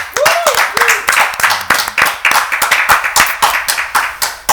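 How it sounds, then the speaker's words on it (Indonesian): An audience claps for a stand-up comedian being introduced, a crisp burst of individual hand claps with a sharp, uneven rhythm, and a voice speaks briefly near the start. "Tepuk tangan buat Bung Panji."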